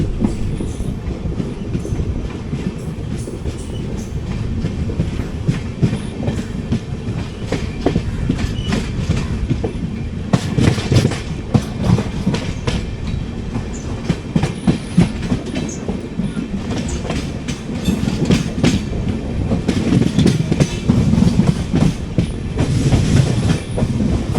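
The 06035 Summer Special train rolls along after leaving Punalur, a continuous loud rumble with rhythmic clickety-clack of wheels over rail joints, heard from inside a coach with no talking.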